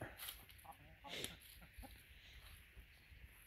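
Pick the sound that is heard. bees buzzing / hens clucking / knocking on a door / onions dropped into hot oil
hens clucking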